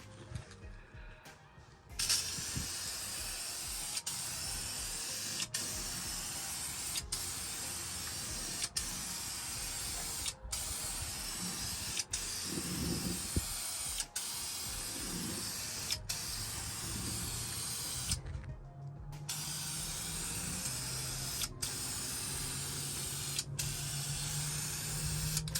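A second coat of spray paint goes onto a car's floor pan: a steady, close hiss of the spray gun that runs almost unbroken, with a few brief cut-offs where the trigger is released.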